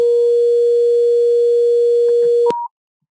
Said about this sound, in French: un son de 400 Hz, disons, un seul haut-parleur, j'active l'audio